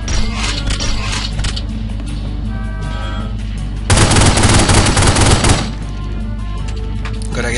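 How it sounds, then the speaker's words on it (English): Tommy gun fire in The Godfather PC game: loud sustained automatic bursts over a continuous dense backdrop of game noise, with the heaviest burst of rapid fire lasting nearly two seconds. "Alright, I'm using the Tommy gun."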